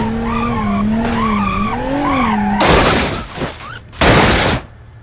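In a racing video game streamed over GeForce NOW, a car's engine whines with a rising, wavering tone, then two loud bursts of crashing impact and skidding noise break in, separated by a short pause.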